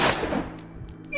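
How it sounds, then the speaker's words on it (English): A gunshot fired at a padlock in the puzzle game Don't Escape Trilogy: a single sharp blast at the start, fading quickly into a faint ringing tail, with no talking. "Can I shoot the padlock?"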